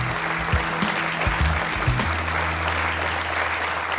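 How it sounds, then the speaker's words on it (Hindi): A crowd claps steadily at a grand New Year celebration just before a solo dance, a dense, even patter of applause with no voices over it. "तालियां"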